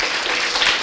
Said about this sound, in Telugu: చప్పట్లు కొట్టండి గట్టిగా ఒకసారి, గట్టిగా గట్టిగా గట్టిగా గట్టిగా.